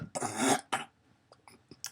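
A single harsh cough bursts out close to the microphone, followed by a second shorter cough and a few small throat sounds, in a quiet indoor room.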